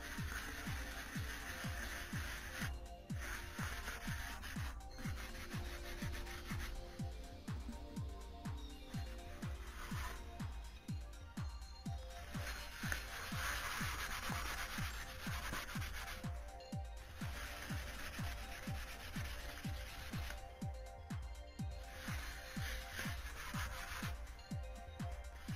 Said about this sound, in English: Now I'm just sanding it down